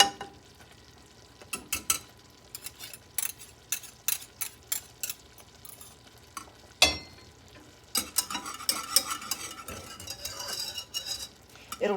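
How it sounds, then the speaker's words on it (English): German chocolate cake icing cooks in a pot while a spoon stirs it, giving sharp, irregular taps and scrapes followed by a softer, steady bubbling sizzle. "I'm going to cook it just a few more minutes."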